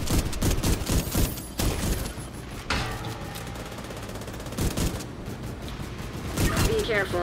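Rapid bursts of automatic gunfire in The Division 2 during an incursion fight, repeated volleys with rumbling booms and mechanical clatter; a voice talks over the shooting.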